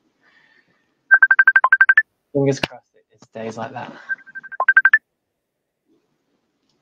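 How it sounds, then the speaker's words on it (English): A phone ringtone plays in two bursts of rapid repeated electronic beeps, loud and close, with a person speaking briefly between the bursts. "Is that my phone coming through?"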